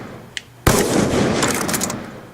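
A single sharp gunshot cracks loudly in a video game trickshot attempt after a faint click, then rings out into a sustained noisy decay, with no talking over it.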